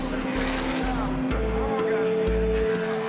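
Ducati race bikes lap a track, engines revving in rapid gear-shift pulses that rise and cut repeatedly, loud and close, with talk running over them.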